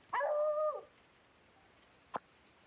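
A single short dog bark comes from a video game, fairly clear against quiet, followed by a faint brief click a moment later.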